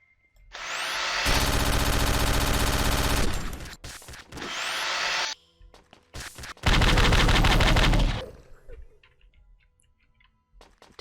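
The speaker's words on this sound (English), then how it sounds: "I'm almost out of ammo immediately." Loud, sustained bursts of rapid automatic gunfire from the first-person shooter Space Warrior built in FPS Creator X10, two long volleys with short gaps and clicks between them.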